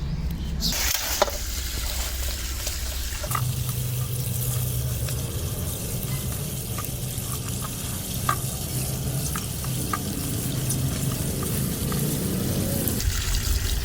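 Fresh moringa leaves are washed by hand in water, giving soft, close sloshing and swishing with light trickles over a steady low background hum.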